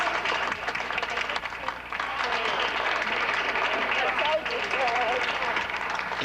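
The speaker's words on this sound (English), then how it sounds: "the people inside broke into applause" A crowd inside a city council chamber breaks into sustained applause, with dense, steady clapping filling the room.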